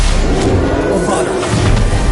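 A Bombarda blasting spell goes off in a PS5 Pro video game, a loud, dense booming explosion with rumbling low end and whooshing debris lasting the whole moment.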